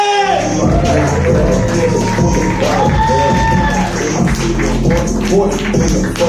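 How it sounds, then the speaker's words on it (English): A comedy club audience claps and cheers in a steady, loud roar while a host's voice and background music carry over it. "clap it up, keep it clapping, keep it clapping"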